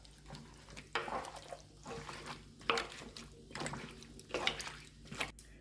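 Lamb shank stew with semi-dried tomatoes being stirred in a pot, soft wet sloshing and scraping in repeated strokes, fairly quiet and close.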